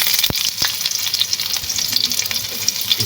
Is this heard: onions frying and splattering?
yes